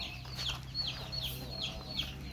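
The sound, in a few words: rooster clucking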